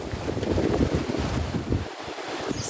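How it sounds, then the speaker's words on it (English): Blustery wind by the sea at Puerto del Carmen, Lanzarote, a close, steady roar of buffeting against the microphone with low rumbling gusts that briefly dip near the end. "It's a little bit windy today"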